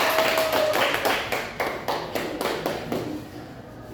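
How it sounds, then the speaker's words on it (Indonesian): Classroom applause from a group of students, a dense burst of many hands clapping that stays loud and steady before gradually thinning and fading out. "Kita beri aplaus kepada kelompok 2."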